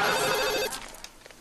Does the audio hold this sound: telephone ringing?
yes